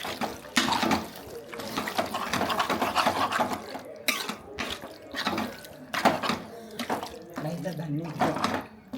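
Water splashes and runs into a pressure cooker of beef in uneven bursts, close by, with a voice talking over it.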